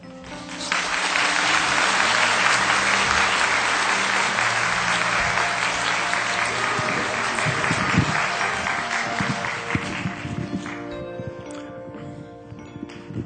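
A church congregation at a Korean church testimony service bursts into loud, sustained applause. The clapping holds steady for about ten seconds, then thins out and fades.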